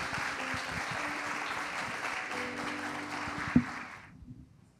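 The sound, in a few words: congregation clapping hands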